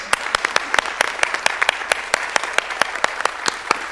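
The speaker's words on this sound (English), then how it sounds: "Let's give them a round of applause" An audience claps for standing award recipients, water distribution system professionals, at a commission meeting: a dense, steady round of applause with sharp individual claps throughout and no talking.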